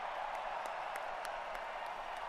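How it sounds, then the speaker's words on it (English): An audience applauding and cheering at a draft announcement, a steady faint wash of clapping with scattered sharper claps throughout. "Please join me in cheering on Sam as his wish comes true."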